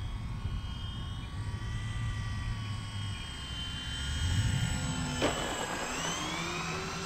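A Dynam P-61 Black Widow 1500mm 4S electric RC warbird drones steadily overhead, its motor whine holding at a faint distance and swelling slightly as it passes, with no talk.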